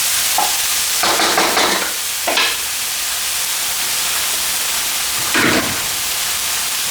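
Squid tossed in a hot pan with chili and garlic, a steady sizzle broken by several bursts of scraping stirring, with no one talking.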